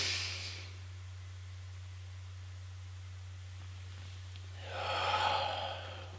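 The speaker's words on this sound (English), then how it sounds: "Deep breath." A slow deep breath, a breathy hiss at the start and another louder exhale near the end, heard close up over a steady low hum with quiet stillness between.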